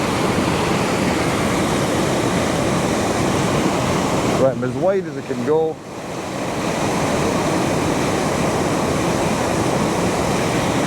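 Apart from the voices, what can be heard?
waterfall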